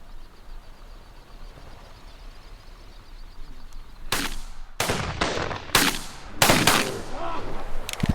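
Shotguns fire at ducks and geese during a hunt outdoors, with several loud, sharp blasts in quick irregular succession after a quiet, breezy stretch.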